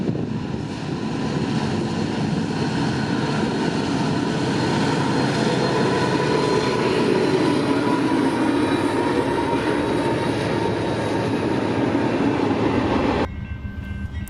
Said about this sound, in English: I ran down to this bridge to get this pretty shot of the train